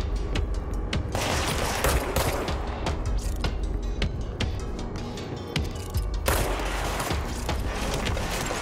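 Dense gunfire in the video game Control, with rapid shots and impacts crackling continuously and loud throughout, over a constant rumbling game backdrop.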